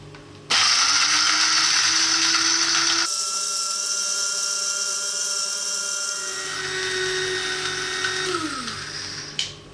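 An electric grinder whirs through whole spices for fresh curry powder, a loud high motor whine that starts abruptly, shifts pitch midway as the load changes, then winds down at the end.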